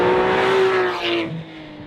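A 2014 Porsche 911 GT3's engine screams at high revs, holding a sustained tone before the pitch falls away over about a second.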